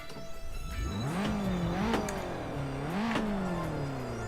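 A car engine revs and shifts gears in Assetto Corsa, pitch sweeping up and dropping back several times, steady and moderately loud with a whirring tone.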